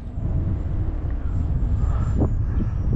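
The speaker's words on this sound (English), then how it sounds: "It's so windy." Loud, steady wind of about 35 mph roars and buffets the microphone, a constant low rumble with a faint high whine running through it.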